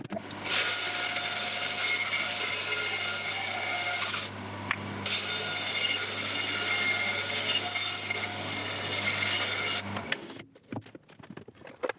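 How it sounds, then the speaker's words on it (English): A bandsaw cuts through a chestnut burl blank with a loud, steady rasping whine over the motor's low hum, pausing briefly midway, then the motor cuts off and spins down. "we're going to take it across the bandsaw, cut it out"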